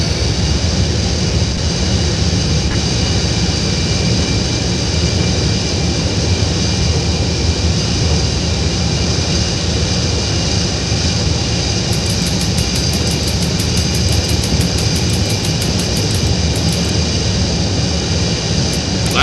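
Steady, loud jet engine roar of a Boeing 787 airliner on a landing approach in a flight simulator game, a continuous broadband hum with no talking.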